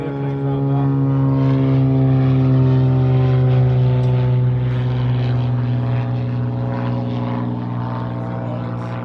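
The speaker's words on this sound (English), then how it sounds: "Let the airplane drop out." Steady, loud propeller airplane drone passing overhead, a continuous tonal engine hum with strong harmonics holding for several seconds, with faint talk beneath.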